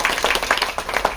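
Audience clapping at an Urdu poetry gathering, a short burst of many hands applauding together at moderate loudness with no talk over it.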